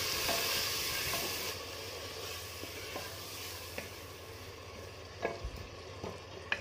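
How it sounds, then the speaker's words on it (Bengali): Spice masala for a Bengali potato and mutton curry, cooked down with a little water, fries with a soft steady sizzle, with occasional light spatula scrapes and taps close by, fairly quiet and unaccompanied by speech. "এইভাবে নেড়েচেড়ে আমি মশলাটাকে কষিয়ে নেব।"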